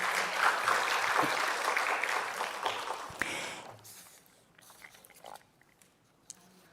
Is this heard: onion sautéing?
no